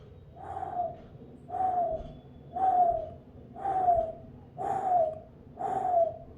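A mimicry artist voices a kottaan owl call: six evenly spaced, falling hoots, each about half a second long, close and clear with no talk between them.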